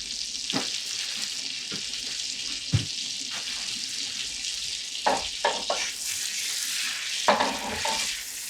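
Butter melts and sizzles in a hot pan with a steady frying hiss, broken by a few clinks and scrapes of a utensil against the pan, with no talking.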